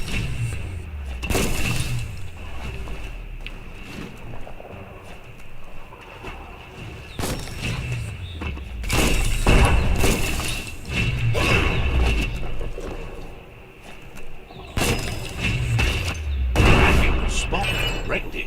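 A bomb lobber in a video game lobs bombs at a target, setting off repeated loud booming explosions with crashing, shattering debris. They come every few seconds over a dense, continuous game soundtrack.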